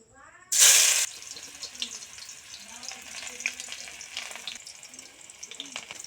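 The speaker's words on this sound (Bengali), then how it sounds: "এবার আমি কড়াইতে পেঁয়াজ কুচি দিয়ে দিব" Chopped onion hits hot mustard oil in a wok with a sudden loud burst of sizzling, then settles into a steady crackling fry with small pops, close and continuous.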